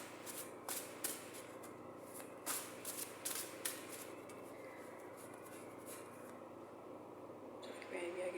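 Oracle cards from an abundance deck shuffled by hand at close range, giving a run of soft riffling bursts and flicks at an even rhythm over a quiet room.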